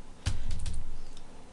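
Keys clatter on a computer keyboard at an Ubuntu 10.04 desktop: a short burst of several quick, close, fairly loud keystrokes with no talking.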